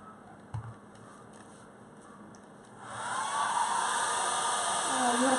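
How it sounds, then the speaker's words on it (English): A quiet room with a faint knock, then a hair dryer switches on to dry paint on a craft project, roaring steadily at close range for the remaining seconds. "I'm gonna put the hair dryer on it real quick"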